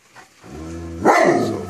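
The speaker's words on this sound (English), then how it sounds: "they're big, big dogs with a big bark." A big Great Pyrenees guard dog gives a single deep, loud bark close by, preceded by a short low whine or grumble.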